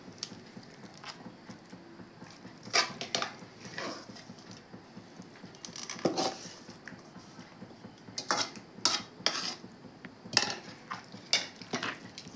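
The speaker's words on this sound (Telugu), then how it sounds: "వీటిని కూడా బాగా దంచుతాను" Cabbage and tomato pieces are pounded in a stone mortar for a chutney, giving irregular dull thuds and clacks at close range, quiet between strikes, with no talk.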